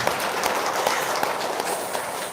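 An audience at a business talk breaks into applause, a dense burst of clapping that fills the space for a couple of seconds with no voices over it.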